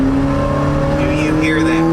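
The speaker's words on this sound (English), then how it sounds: "we're taking off. Hear the power of the engine." Honda Fit engine pulling away from a stop, a steady in-cabin drone with low harmonic tones rising gently, heard under someone talking, with air-conditioning airflow in the background.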